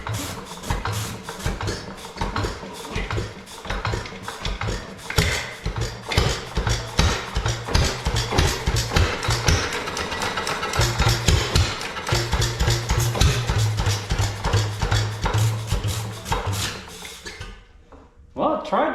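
A 1920s Monitor pump jack engine is cranked and sputters as it tries to run, giving irregular mechanical knocks and rasping chuffs that go on throughout and stop near the end.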